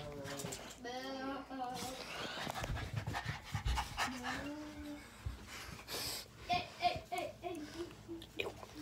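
A dog pants in quick breathy bursts close by, mixed with a voice and other household sounds, indoors during a Fortnite game session.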